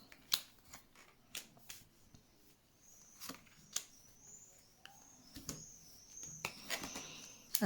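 Tarot cards are shuffled and laid out in quiet, scattered soft slaps and papery flicks, close and faint, with no talking.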